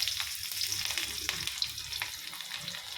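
Garlic sizzles and crackles in hot oil while making Bombay chutney, with steady frying hiss and scattered sharp pops close by.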